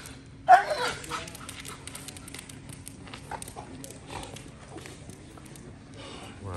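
A dog yelps and whimpers near the start, then gives softer whines and yips during restraint training with a breaker bar, mixed with scuffling, close by.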